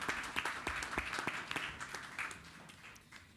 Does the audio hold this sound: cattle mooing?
no